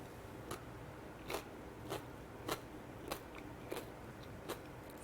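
Crunchy carrot salad with celery and green pepper being chewed, a series of about eight crisp, quiet bites spaced roughly half a second apart, close to the ear with no talk.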